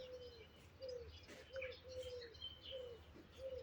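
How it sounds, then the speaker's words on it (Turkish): A turtle dove coos softly in a slow repeating rhythm while other birds chirp and twitter in the background, all fairly faint and distant. "kuş sesleri, kumru sesi"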